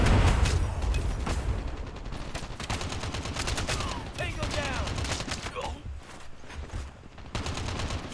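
An ASM10 rifle in Call of Duty Mobile fires from the hip in rapid bursts, loud and close, amid other game gunfire and effects, with a voice talking over parts of it.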